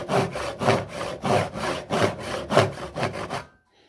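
A hand saw cuts a notch in wood for a hinge, close by, with about eight even back-and-forth strokes in a steady rasping rhythm before the sawing stops suddenly.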